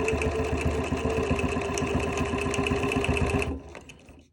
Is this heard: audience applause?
no